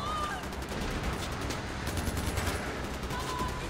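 AK-style rifle fire in Far Cry 4 rattles in quick, dense bursts, moderately loud and continuous across the moment, with a busy game soundscape behind it.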